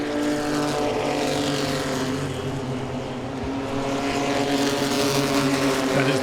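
Pro-Six race cars at Langley Speedway roar past the start-finish line, their engines making a loud, sustained drone that holds steady for the whole stretch.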